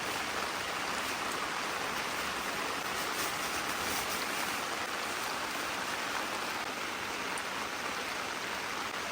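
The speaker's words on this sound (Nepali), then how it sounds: "पानी परेको 2 घन्टा भइसक्यो" Rain falls steadily on a campsite in Jiri, Nepal, a continuous even hiss of drops on surfaces with no pauses or voices, moderately loud and unchanging throughout.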